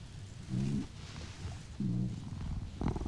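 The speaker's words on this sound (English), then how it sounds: "Oh, they're little meows." Lynx kittens in the video game Shelter 2 let out a few soft, high meows and purring mews inside a den, close and gentle against a low ambient hum, with no voices.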